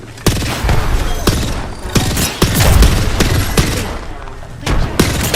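Gunfire in the video game Apex Legends: repeated sharp shots and bursts, loud and close, in an irregular rhythm with booming impacts and faint voices underneath.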